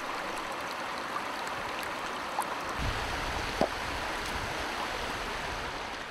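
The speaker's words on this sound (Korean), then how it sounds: "계곡물 흐르는 소리에 몸과 마음의 찌꺼기들도 맑게 정화되는 기분입니다." A valley stream flows steadily in a mountain setting, a constant broad rush of water with a few faint splashes, alone and without talk.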